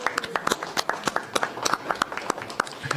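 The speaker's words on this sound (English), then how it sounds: "I'd like to give them a round of applause for the children in the back of the room" Applause for children at a city council meeting: a brief, dense patter of clapping hands from a modest room crowd, close and moderately loud.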